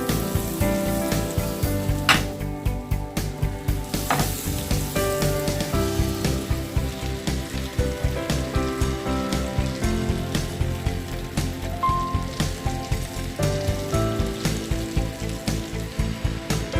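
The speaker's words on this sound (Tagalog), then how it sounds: "prito na po natin ang chicken breast. Ang gagamitin po natin ay butter." Butter sizzles steadily in a pan while chicken breast fries, a continuous loud crackling hiss with popping spatters throughout and no talking.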